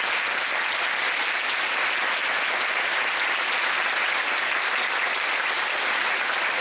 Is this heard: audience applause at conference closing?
yes